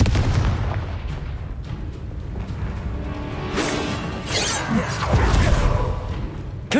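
A Confringo fire spell from the Hogwarts Legacy video game bursts in a booming explosion, followed by rumbling crashes and debris rolling off over several seconds, loud and close.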